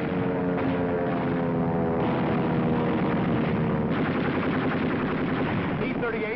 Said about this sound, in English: This is a dogfight.